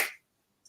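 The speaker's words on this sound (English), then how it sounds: "I'll clap." A single sharp hand clap, close and dry, decays within a fraction of a second into silence, with a faint tiny click near the end.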